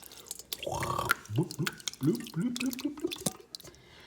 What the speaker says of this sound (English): We're going to pour this in there.